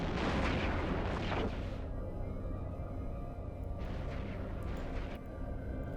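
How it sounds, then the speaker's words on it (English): Incoming weapons fire in the space video game EVE Online, a dense rumbling barrage of booms that starts loud, settles into a low continuous roar, then flares again briefly, with no talk. "that was just incoming fire again"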